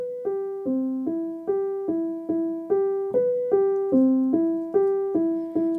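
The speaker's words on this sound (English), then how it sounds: "there is a piano arpeggio that looks like this" Soft piano from Spitfire Audio's Labs with reverb and volume automation plays a steady repeating arpeggio, evenly spaced gentle notes cycling over a low pattern, soft and close.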